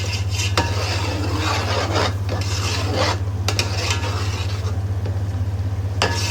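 A spoon scrapes and stirs yogurt into a sizzling pan of dhaba-style mash dal in oil, with a constant low hiss and repeated brief rasping strokes, close and steady without talk.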